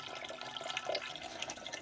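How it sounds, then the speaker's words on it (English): Water pours and trickles continuously from a homemade gravity water filter at an outdoor homestead, a close, steady splashing stream with small drips and no talking. "We put water in the top, which filters down and comes out through the filters."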